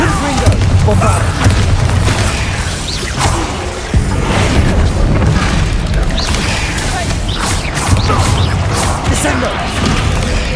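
A Bombarda spell explosion in the Hogwarts Legacy video game, booming inside a dense, continuous stretch of loud combat noise with crashes and whooshes throughout, played on hard difficulty.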